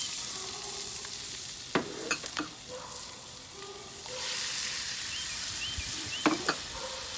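Onions, garlic and tomatoes sizzle together into a sofrito for vegetable paella cooking over a grill, a steady broadband fry with a few sharp stirring clinks and scrapes standing out, no talking.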